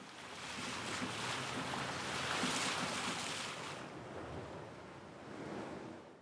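Sea waves wash against and past a coastal sea wall, a steady loud surge of water with wind noise on the microphone and no voices.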